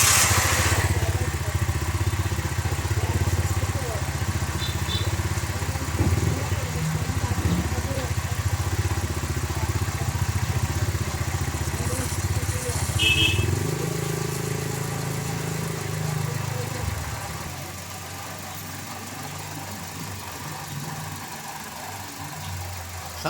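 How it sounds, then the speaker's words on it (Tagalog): A noisy Toyota Avanza engine starts and idles with a steady, rough mechanical drone that runs loud and close for most of the span, then quietens toward the end while people talk nearby. "Tapos pa-start ko ulit itong makina."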